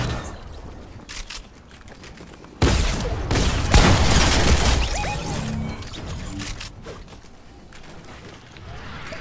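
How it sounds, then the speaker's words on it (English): Weapon fire in Fortnite during a Hype Nite match, a dense burst of rapid shots and crashing impacts that opens abruptly and rattles on amid clanking mechanical noise, loud and close. "I'm shooting down."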